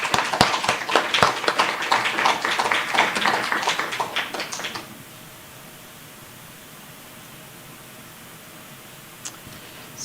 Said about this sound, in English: we should give ourselves a round of applause first